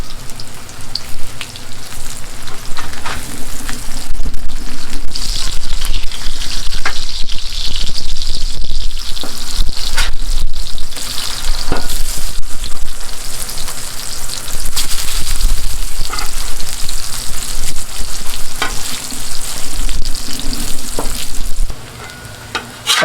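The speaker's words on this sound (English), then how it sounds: "let's go ahead and give these hash browns a quick flip" Hash browns sizzling loudly on a Blackstone griddle, a steady dense frying hiss with scraping and stirring noises as they are flipped, continuous and close, fading only at the very end.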